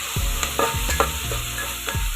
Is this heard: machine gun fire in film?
no